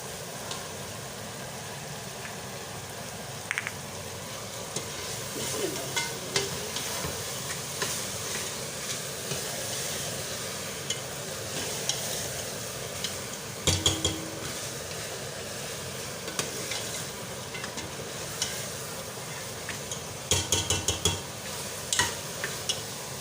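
Aloo gosht being stirred in a pot after garam masala and green chillies go in, a steady scraping and sizzling with occasional louder clinks of the spoon against the vessel, close and continuous.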